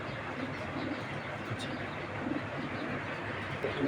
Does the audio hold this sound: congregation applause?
no